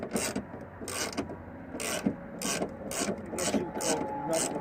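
Ratchet wrench with a 13 mm socket snugging the knuckle bolts on a 1995–2005 Dodge Neon during lowering work: about seven bursts of rapid clicking, close and fairly quiet, with short pauses between strokes.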